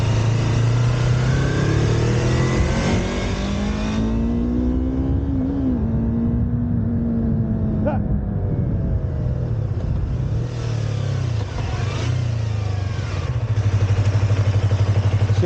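Motorcycle engine while riding, one of a Honda CB250R, Yamaha R25 or Yamaha XSR700, a loud steady drone that rises and falls in pitch as the rider revs and shifts, wind noise throughout, no speech.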